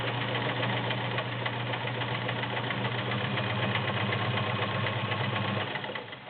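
A Kenmore 1802 sewing machine stitches through 14 layers of cotton, its motor humming steadily for several seconds before slowing and fading out at the end.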